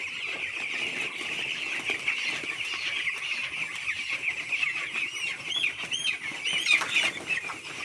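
Chickens clucking and squawking in a coop at feeding time, a dense flock chorus of overlapping calls that grows busier toward the end, with some wing flapping.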